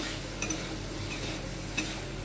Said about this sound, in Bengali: ভালো করে এটাকে নেড়ে নিচ্ছি।